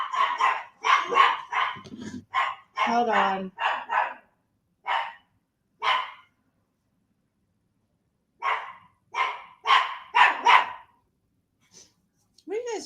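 Dogs bark in quick repeated bursts, close and loud, pausing for a few seconds before starting up again, with a person speaking briefly among the barks.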